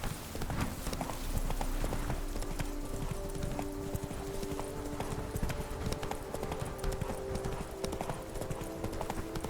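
Horse hooves clip-clop steadily in Witcher 3 as the mount trots along, a continuous close rhythmic clatter over a low game-world ambience, with a brief voice murmuring faintly.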